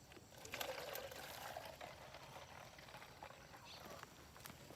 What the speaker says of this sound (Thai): ปาดขวดแล้วก็ ใส่ กากน้ำตาลผสมน้ำนะครับ